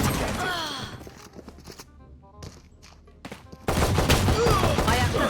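Gunfire from a skinned weapon in a tactical shooter video game, with bursts of shots heard near and clear, partly under a talking voice and game sounds, ending in a loud, dense stretch of firing.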